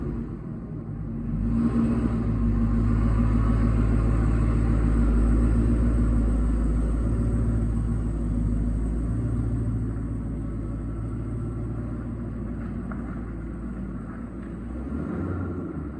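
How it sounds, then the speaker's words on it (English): A Jeep Trackhawk with its supercharged Hellcat engine races along, a loud, steady, deep engine rumble that holds nearly constant throughout with slight swells, close by and without talk. "I just got back from the ride in the track hawk, and let me tell you, that Hellcat engine is an absolute streamer"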